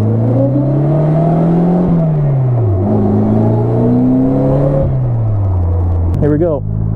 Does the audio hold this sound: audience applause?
no